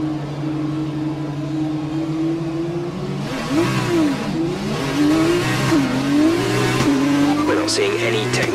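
An F2 race car in the F1 2020 video game, at Monaco, revs on a practice start, its engine tone climbing and wavering under steady commentary talk.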